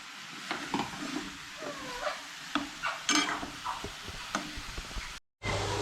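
Ginger-garlic paste frying in a pan for paneer butter masala, a low sizzle under intermittent scraping and tapping of a spoon as it is stirred, close and quiet, with a brief dropout near the end.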